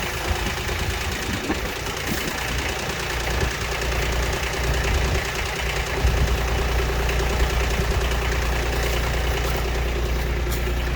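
A Brute Force 26-24 diesel log splitter engine runs steadily at idle outdoors in wind, a constant low knocking diesel rumble with continuous broadband noise throughout.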